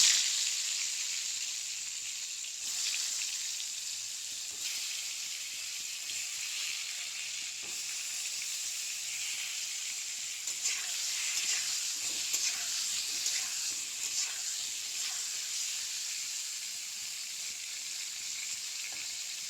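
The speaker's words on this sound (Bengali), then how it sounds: "এইভাবে করে পটলগুলো ভাজি করে নেব।" Pointed gourd pieces fry in hot oil in a wok over a low flame, giving a steady, close, bright sizzle with faint stirring, and no voices.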